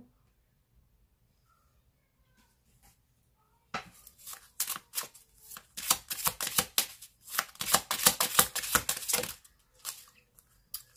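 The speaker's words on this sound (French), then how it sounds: "tirer une carte pour un conseil pour vous." Tarot cards shuffled by hand to draw an advice card: silence at first, then a close run of rapid riffling bursts and soft slaps with short pauses between them.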